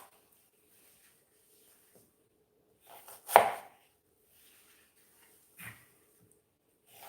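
Baby onions are halved on a cutting board: one firm knife chop stands out in near silence, with softer cuts just before it and a fainter one a couple of seconds later.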